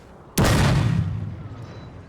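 A single heavy boom of artillery fire erupts from a Napoleon Total War battlefield, loud and sudden, then rolls away in a long fading rumble.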